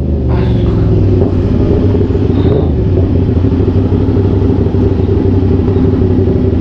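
A CFMOTO 675SR-R 600cc sportsbike rides in heavy traffic, its engine a steady, loud low rumble that holds throughout with no speech over it.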